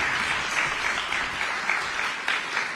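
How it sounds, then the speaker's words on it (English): An audience applauds in a room during a legislation signing on literacy at Park Elementary School, a dense, steady patter of many hands clapping throughout, fairly loud and close. "Let's give them a round of applause."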